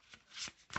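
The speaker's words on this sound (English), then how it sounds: "So I'm going to go on and shuffle up" A deck of cards is shuffled for a spirit card reading: a quiet, short riffle of a few soft flicks and a final snap, close but faint.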